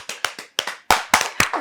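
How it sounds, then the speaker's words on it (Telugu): Enthusiastic applause on a Telugu chat show: about eight sharp, closely spaced claps from a few people, loud and near, with no talk over them. "claps claps"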